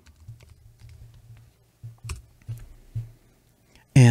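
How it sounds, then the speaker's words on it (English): Computer keyboard keys are typed into a search field with soft, scattered clicks, close and moderately quiet, ending in a louder sharp click. "we can type in to the search and go to automotive."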